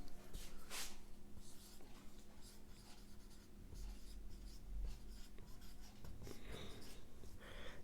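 Hand-writing maths, with scratchy, uneven pen or marker strokes in short bursts close by, soft breathing in between.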